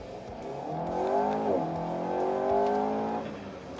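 A 2022 Alpine A110S pulls a launch-control start in Sport mode from about 2,700 rpm on a circuit: one steady, loud engine surge whose pitch climbs through the gears, with a brief shift dip midway, heard close and alone without talk.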